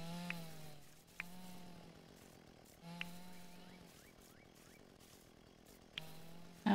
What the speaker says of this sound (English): kind of weird to get the rice with the chainsaw